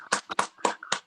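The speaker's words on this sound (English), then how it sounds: "I want to end this conversation with clapping" A few people clapping together over a video call, five or six separate sharp claps in an uneven rhythm, close and clear, lasting about a second.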